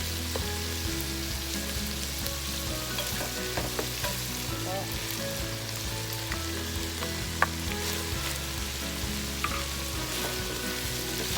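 Shrimp, chicken liver and mixed vegetables are stir-fried for a Kapampangan creamy sipo egg dish, producing a steady sizzle broken by occasional scraping stirs, close by and with no talking.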